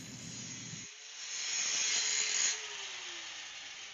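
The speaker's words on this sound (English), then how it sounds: "now we gotta basically grind all the metal to all the spots where I'm gonna weld" Angle grinder cleaning steel at weld spots on a vintage steel glider, a steady close high-pitched grinding whir that swells louder through the middle and then settles back, with no talk.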